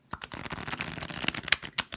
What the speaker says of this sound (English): I'm just going to exhale and shuffle the cards and see what flies out.